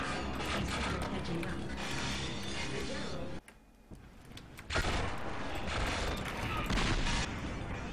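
Turret gunfire blasts in the shooter game Gunman Chronicles, loud dense bursts of rapid shots that briefly drop out before resuming at full intensity.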